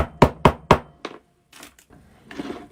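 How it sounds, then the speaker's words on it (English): Wooden dowels hammered into a floral wreath form: three sharp, evenly spaced knocks, then a lighter tap and a few softer, scattered knocks, close and loud, with no talk. "Now my little dowels are popping out a little. I'm going to just hammer them in."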